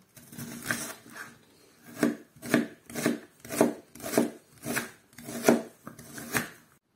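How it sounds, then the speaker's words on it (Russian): Eight or nine crisp knife strokes through onion against a board, evenly spaced about half a second apart, close by with no talking. "Сейчас буду резать лук. Лук нарезаем полукольцами."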